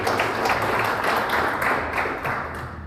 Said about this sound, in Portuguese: solicitando a todos uma salva de palmas aos componentes da mesa, visitantes e convidados